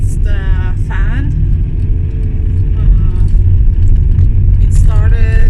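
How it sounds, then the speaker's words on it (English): A car heater fan runs with a steady low roar inside the cabin while driving through snowy mountains, with a voice speaking over it. "And that sound that you're hearing, that's the fan."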